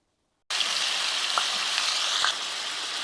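Long chicken strips frying with onion in a pan. After a brief silence a loud, close, continuous sizzle bursts in and holds steady, with faint crackles and pops.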